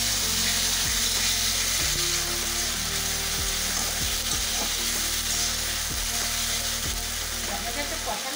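Tomato paste frying over sautéed ginger, onion and garlic, making a dense steady sizzle with occasional stirring scrapes, close up, over a low rhythmic hum, with no voices.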